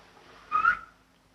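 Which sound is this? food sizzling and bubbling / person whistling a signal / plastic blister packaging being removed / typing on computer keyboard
person whistling a signal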